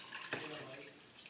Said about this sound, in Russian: И сейчас мы заливаем их 1 литром воды.